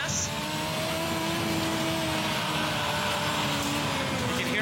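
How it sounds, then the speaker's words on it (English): An engine held at wide-open throttle, droning steadily and loud with rising harmonic tones under a constant roar, with some background speech-like texture. "You can hear I'm basically holding it wide open there."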